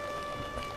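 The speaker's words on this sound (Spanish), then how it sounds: "la lluvia que volvió a caer justo en este momento" Steady rain falls at an outdoor funeral at a cemetery in Lebu, a soft continuous hiss with no voices, heard alone for a brief moment.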